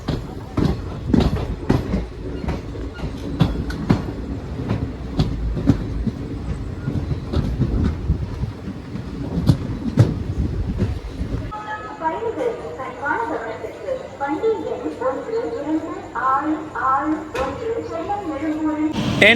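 The Ananthapuri SF Express, running from Chennai Egmore to Kollam, rumbles loudly on its journey with a rhythmic clickety-clack from the wheels, then a softer stretch as someone speaks over the running-train noise.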